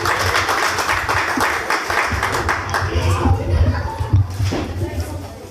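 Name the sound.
audience applause at a ghazal concert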